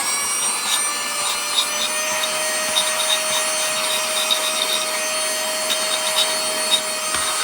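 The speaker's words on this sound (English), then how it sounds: "wireless vacuum." Steady high-pitched whine of a wireless vacuum cleaner clearing up sanding dust from a wooden chalkboard eraser, with a constant motor tone and small rattling pickups throughout, close by and alone.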